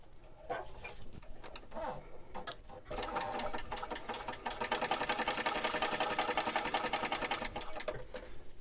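Sewing machine stitching fabric panels for a wristlet, running in short bursts at first, then a steady, fast, close mechanical whirr of the needle that holds for several seconds.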